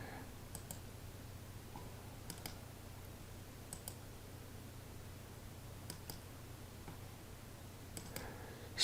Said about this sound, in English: So you right click the web page and you view in browser.